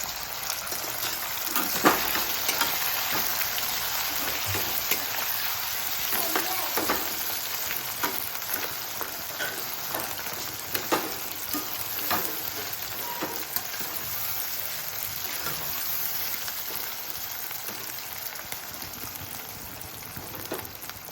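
Potatoes with turmeric and popped sesame seeds fry in a pan for sabudana khichdi, a steady close sizzle and crackle with frequent scraping stirs spread throughout and no talking.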